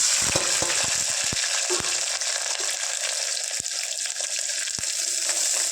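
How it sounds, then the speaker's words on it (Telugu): Onions and green chillies frying in oil in a pan, a steady close hiss of sizzling with occasional stirring clicks and scrapes throughout, no voices. "లైట్ గోల్డెన్ బ్రౌన్ కలర్ వచ్చే వరకు ఫ్రై చేసుకుందాం"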